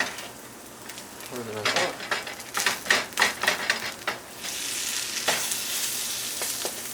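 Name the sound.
vegan mushroom burger patty flipped, sizzling in pan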